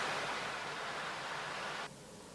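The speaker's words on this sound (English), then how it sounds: "River flowing, making these kind of almost like white noise vibes." A flowing river gives a steady, broadband rush like white noise, fairly soft and continuous, dropping slightly in level and brightness near the end.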